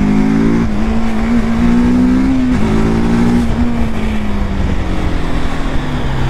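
A TVS Apache RTR 310 motorcycle accelerating hard, its engine note rising loud and close through gear changes, with a brief dip between shifts and no talk.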